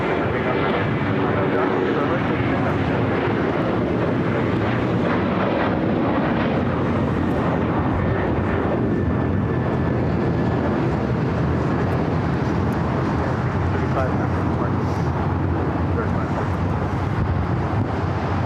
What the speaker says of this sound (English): That was United Airlines Flight 1635 heading to Dulles in a 737-900ER